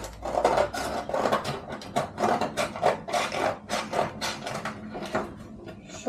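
A knife cuts food, likely on a cutting board during home dinner preparation, with a series of rasping, scraping strokes repeated in an uneven rhythm, close and fairly loud, with no talk.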